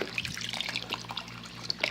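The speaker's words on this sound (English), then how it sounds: "Now what I'm gonna do is add chicken broth." Organic chicken broth poured from a container into a cooking pot for arroz con pollo, a light trickling, splashing liquid with small drips, close and fairly quiet.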